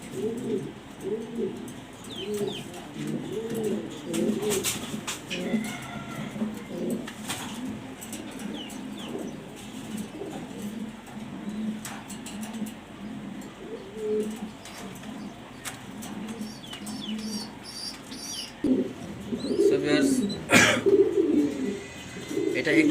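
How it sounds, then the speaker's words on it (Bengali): Danish pigeons coo in low, repeated rolling calls close by, with some wing flutters and a person talking intermittently over them. "এটা একটা মাদি কবুতর ড্যানিশ নিউ অ্যাডাল"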